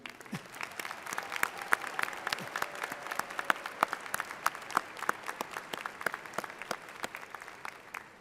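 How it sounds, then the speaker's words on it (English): A large commencement crowd at a university spring graduation applauds faculty and staff, steady dense clapping with sharp individual claps standing out throughout. "Please join me in applauding my colleagues, the faculty and staff of VCU."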